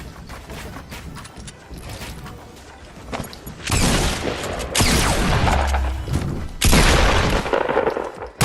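Impulse grenade blast in Fortnite on console, heard as rapid booming explosions and gunfire-like bursts that build into loud, dense waves of sound through the second half.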